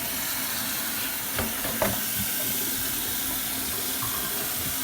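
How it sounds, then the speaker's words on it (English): Cold tap water runs steadily over cabbage being rinsed, a close, even splashing hiss with small knocks of handling and no talking. "I'm rinsing this with some cold water."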